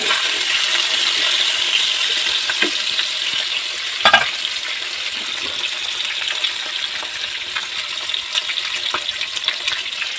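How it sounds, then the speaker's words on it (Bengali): Pieces of katla fish fry in hot oil for a doi katla dish, giving a steady close sizzle with crackle and a few clinks of utensils against the pan, and no talk. "তো আমি হালকা ভেজেই নামিয়ে নেব, আর একটু ভাজবো, ভেজে নামিয়ে নেব।"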